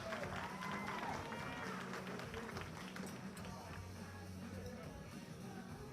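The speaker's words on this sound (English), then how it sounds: "Give these three fine young ladies another round of applause." An audience at a powerlifting meet claps and cheers in a sustained, fairly distant patter of applause, while an announcer's amplified voice talks over it.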